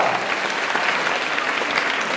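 Loud, dense applause from a crowd at a temple religious gathering at Gorakhnath Mandir, honoring Rajasthani performing artists, steady and unbroken throughout.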